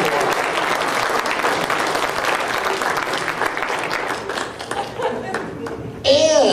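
An audience at a fan convention opening ceremony gives a sustained round of applause, dense steady clapping with crowd chatter mixed in, before the clapping thins out near the end.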